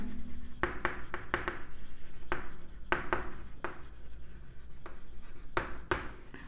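Pen writing on paper, a soft continuous scratching broken by sharp taps and strokes at irregular intervals, close and fairly quiet with no talking.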